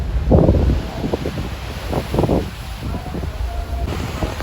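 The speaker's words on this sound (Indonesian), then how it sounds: "Di tengah gelombangnya kencang guys." Strong wind and rough waves on the open sea during a Merak to Bakauheni ferry crossing, heard as loud gusting rumble and wash with wind buffeting the microphone, alongside some brief voice sounds.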